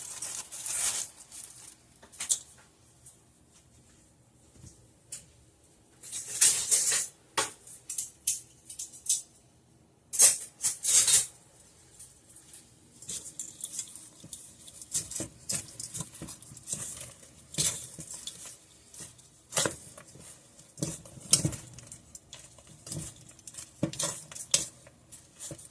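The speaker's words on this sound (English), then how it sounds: "So I am going to mix in my Whoppers." Candy-coated Whoppers malted milk balls are worked into a dry chocolate chip cookie dough, giving soft scraping and clattering bursts with small clicks, irregular and close, with quiet pauses between.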